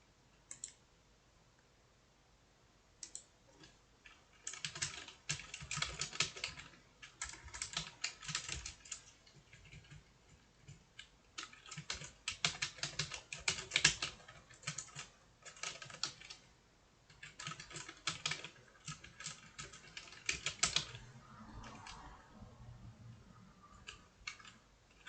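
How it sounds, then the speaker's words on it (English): Steady bursts of typing on a computer keyboard, close and fairly loud, with rapid clicking keystrokes in clustered runs separated by brief pauses, and no voices. "So that is a lot of typing."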